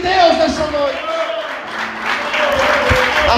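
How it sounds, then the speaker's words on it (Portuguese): Church congregation applauding during a service, a dense wash of clapping that rises and falls under a preacher's raised voice. "Quantos podem aplaudir o Senhor e exaltar o nome de Deus nessa noite?"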